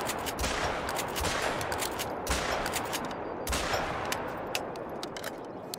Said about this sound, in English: he's gonna show off his skills with his shotgun.